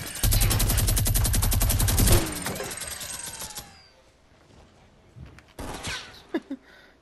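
Rapid automatic gunfire in the video game Fortnite, a dense burst of shots lasting about two seconds, then a quieter stretch and a few sharper isolated game effects near the end.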